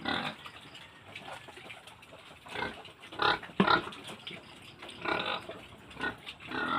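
Young piglets squeal and grunt around feeding time at a 20-head pig pen, a busy, continuous rooting and squealing with a few louder bursts near the middle, close to the listener.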